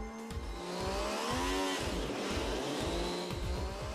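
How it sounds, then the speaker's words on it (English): An MV Agusta F3 motorcycle engine built from production parts runs on a factory test bench, revving loudly and steadily with shifting, sweeping tones and a rough, pulsing low rumble. "Now the engine which is running is one of the first engines made with production parts"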